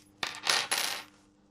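Two small metal keys for a NEEWER MS007 low-profile desk microphone stand dropped onto a hard surface, giving a few bright, close metallic clinks and rattles in quick succession with no talk over them.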